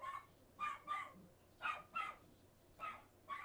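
A dog barks in a series of short, sharp barks, roughly seven in pairs and singles over a few seconds, fairly close and clear above a quiet background with no talk.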